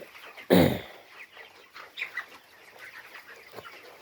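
Chickens in a poultry shed: one loud, close squawk opens, followed by scattered soft clucks and brief calls throughout, with no talking.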